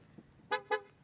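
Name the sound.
Ford Mustang Mach-E horn honking with ignition on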